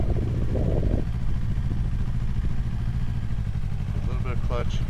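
A 2025 Yamaha R3 300cc motorcycle running at low speed through tight U-turns and figure-eight maneuvers, its steady engine drone continuous and close throughout, with a few brief voice sounds near the end.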